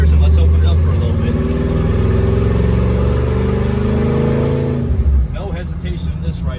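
A 1953 Ford F100 pickup with a 460 Ford V8, headers and side pipes, revving loud and close with a deep throaty rumble, then dropping off abruptly near the end.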